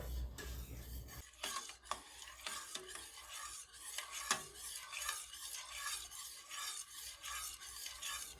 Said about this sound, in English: This sauce is just coming up to a simmer